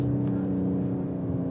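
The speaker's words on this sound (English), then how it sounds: "Second gear is the only gear I can actually hear the turbos." A 2021 Mercedes-AMG E53 engine hums steadily in second gear from inside the cabin, a close, even drone with a faint whir on top and no talk.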